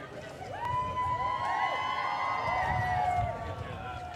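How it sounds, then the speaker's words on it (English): A crowd of fans lines the route during a 2016 royal visit to UBC Okanagan, cheering and shouting steadily at a moderate distance, with higher excited voices and whoops rising over the din. "Lots of cheering fans along the way."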